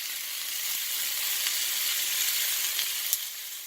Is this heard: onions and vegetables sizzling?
yes